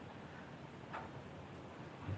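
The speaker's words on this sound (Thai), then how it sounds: "ลมแรงมากข้างนอก" Strong, cold wind blows outside on a mountain at Phu Chi Fa, a steady broadband roar with slight gusting swells, fairly faint and continuous with no voices.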